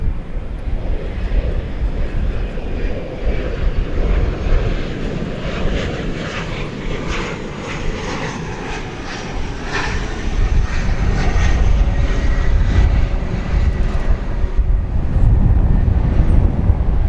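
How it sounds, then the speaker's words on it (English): American Eagle Embraer 175 airliner at DFW Airport at night, a loud continuous jet engine roar that swells slightly toward the end, with wind rumbling against the microphone. "American Eagle flight, an Embraer 175"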